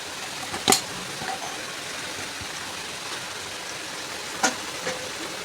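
A large katla fish head sizzles in a pan with bottle gourd, giving a steady, close frying hiss. Two or three sharp clinks of utensil against the pan cut through it, and no one speaks.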